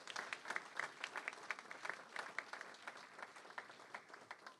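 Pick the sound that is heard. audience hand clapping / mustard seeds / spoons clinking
audience hand clapping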